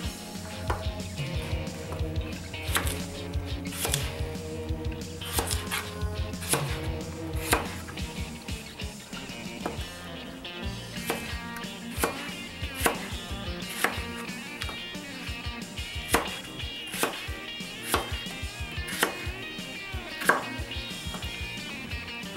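A knife chops vegetables for Mexican meatball soup into big, inch-and-a-half chunks on a bias, sharp cutting-board knocks in an irregular rhythm of single strokes and quick runs, close and clear with no voices.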